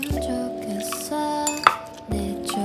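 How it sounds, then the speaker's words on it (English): Soy-vinegar dressing with sesame oil, sugar and crushed red pepper flakes is poured over spiral-cut cucumbers: close liquid dripping and splashing, with light clinks of dishes or utensils, under a sustained musical tone. "then pour dressing over your cucumbers"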